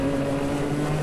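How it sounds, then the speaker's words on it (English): Go-kart engine during a TagR 125 medium finals race at Newcastle, a steady buzzing two-stroke drone holding a constant pitch, close and continuous. "you kind of just hear the engine and you don't actually hear my commentary"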